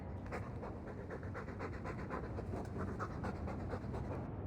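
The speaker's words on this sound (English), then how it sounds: "All that noisy dog breath, day in, day out." A dog pants in the video game Dragon Age 2, rapid rhythmic breaths repeating steadily and close up for the whole stretch, with no talk over it.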